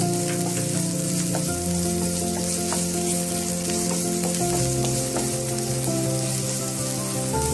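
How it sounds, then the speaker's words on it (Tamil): Chopped onions sauté in hot oil for vegetable momo filling, producing a loud, continuous sizzle with crackling pops. Scraping stirs break through now and then, and no one speaks. "அது கூட நம்ம கட் பண்ணி வச்சுருக்க வெங்காயத்தை ஆட் பண்ணிடலாம்"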